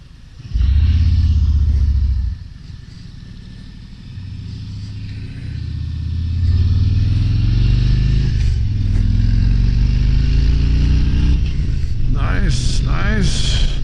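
A 2023 Harley-Davidson Road Glide Special motorcycle rumbles loudly on the road, its deep engine note swelling and revving up through several gear changes as the ride continues.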